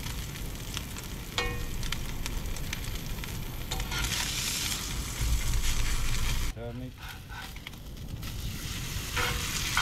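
Steak sizzling and frying in a pan at a campsite, a steady crackling hiss throughout with a brief burst of voice partway through.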